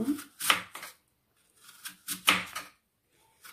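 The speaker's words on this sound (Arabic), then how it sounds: "خديت انا التفاحه نقيتها تبعو معايا كيفاش غادي نقطع رقيقه" An apple being sliced thinly with a knife for an eggless apple cake, a few quiet separate cuts with short gaps, close and fairly soft.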